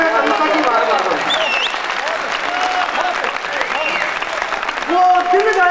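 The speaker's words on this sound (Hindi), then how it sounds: "आपकी तालियां बजना चाहिए।" Audience applause at a Hindi kavi sammelan poetry recital, a full crowd clapping steadily while a voice carries on speaking over it.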